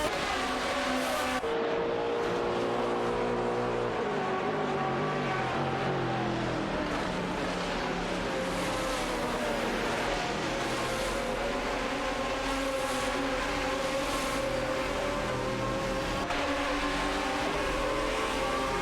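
Race cars in an online racing video game, including an Aston Martin DBR9, roar steadily with layered engine whines rising and falling through gear changes, several cars close together, loud and continuous with no talking.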